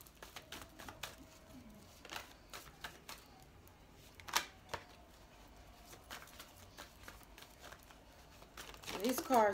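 Tarot cards are shuffled and riffled for a reading, a run of soft papery flicks and slaps in irregular bursts, close and quiet, with a louder rustle at the end.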